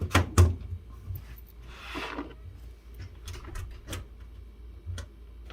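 A door switch and lock assembly from an LG WM2016CW washer is set back into place, giving a few sharp, faint plastic clicks and knocks with quiet handling noise between them. No one speaks.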